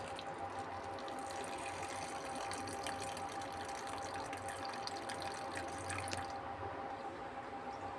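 Soaked tamarind juice pours into a bowl of chili powder and onions, a continuous close liquid splashing and trickling that runs for about six seconds, then stops.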